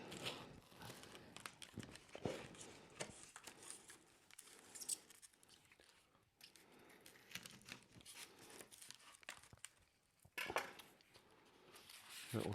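A knife cuts into a baked pork pie, giving crisp crinkling and tearing of the pastry crust with light scrapes and clinks of cutlery, close and moderately loud, with no speech.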